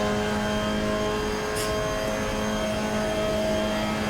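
A race car engine in Assetto Corsa holds full throttle through a fourth-gear corner at Watkins Glen, a steady loud droning whine with no talk over it.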